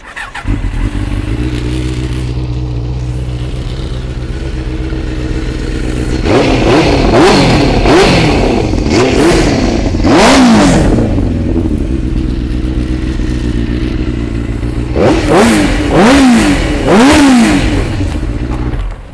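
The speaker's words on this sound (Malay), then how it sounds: "kita cuba start tengok ini TNT 600 bunyi dia macam mana" A 2014 Benelli TNT 600 motorcycle idles with a steady, loud, close throb, then gets two bursts of repeated sharp throttle revs that rise and fall quickly before it settles back to idle.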